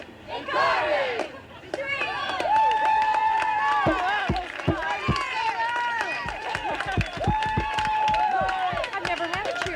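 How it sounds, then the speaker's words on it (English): A studio audience chants a made-up cheer for Colleen and Corbin in loud, rhythmic unison. Claps and crowd noise run under the voices, which rise and fall in repeated phrases. "I've never had a cheer made up for us."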